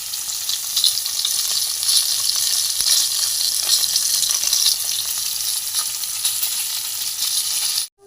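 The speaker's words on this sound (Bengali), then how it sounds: "তুলে নিয়ে আবারও মাছ আমি ছেড়ে দেবো, বাকি মাছগুলো ভেজে নেব" Koi fish frying in a pan of oil, a loud, dense, unbroken sizzle that carries on steadily before cutting off abruptly at the end, with no voices.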